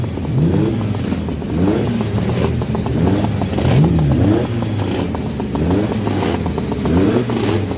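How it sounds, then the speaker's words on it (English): BMW flat-twin boxer-engined sidecar outfits race past on a road course, loud and close. Several engines rise and fall in pitch as they pass one after another, and there is some mechanical clatter. "The flat cylinder there, the boxer engines of the BMWs, running away"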